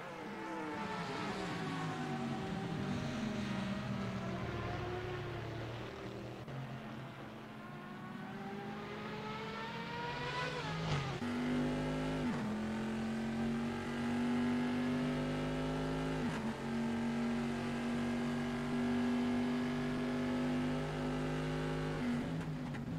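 Porsche and Corvette race cars lapping the Nürburgring in a racing sim: several engines rev and shift in overlapping rising pitch sweeps, loud and continuous, with gear changes and repeated acceleration over about twenty seconds.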